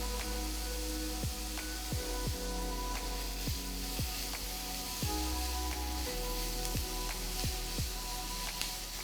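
Kohlrabi cooking in a pan with garlic and pepper: a steady soft sizzle under a hum, punctuated by a series of sharp clicking taps about every second.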